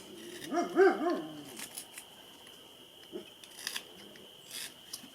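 A dog inside a woodworking shop growls and gives a brief bark-like burst at something outside. It sounds faint and somewhat distant against a quiet room, with a few scattered small clicks and shuffles after it.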